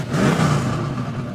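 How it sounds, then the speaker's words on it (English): Big-bore Pro 2 off-road short-course race truck engine roaring, a brief loud rumbling surge that swells then holds steady, heard alone without voices. "nothing like the sound of the roar of the big bore, the Pro 2s"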